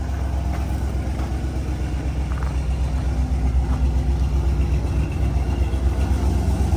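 A turbocharged Ford Crown Victoria, freshly fired up after three weeks of sitting, idles with a steady deep rumble and a throbbing low-end pulse, loud and close, with no voices.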